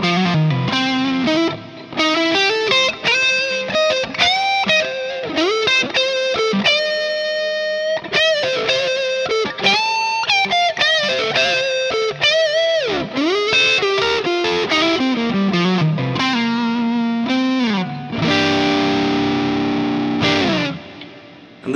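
Electric guitar through a Seymour Duncan '59 humbucker into a crunchy AC30-style amp with reverb, playing a loud, sustained run of distorted chords and single-note lines, heard alone.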